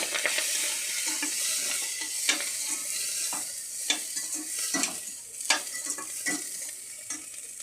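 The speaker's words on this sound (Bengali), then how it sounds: "এর ভিতরে কাটা টমেটোটা দিয়ে দেবো।" Chopped tomato frying in a pan, with a steady sizzle broken by sharp stirring clicks and scrapes at irregular intervals, close by with no voices.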